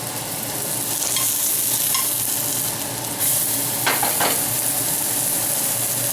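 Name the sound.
gluten-free bun dough cooking in a pan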